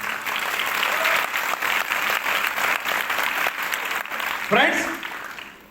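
Loud audience applause fills a town hall during a training program in Bhagalpur, a dense steady roar of clapping throughout with a voice speaking over it.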